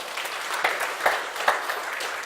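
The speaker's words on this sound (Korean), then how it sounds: "박수 한 번 더 쳐줘요." A church audience at a Korean Bible lecture gives a short burst of steady applause, dense close clapping with a few louder pulses, with no talk over it.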